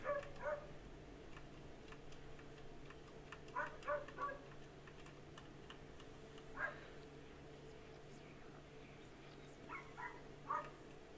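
Dogs outside bark in scattered, faint bursts, some doubled, spread irregularly over a steady low hum and soft ticking, heard from indoors at a distance.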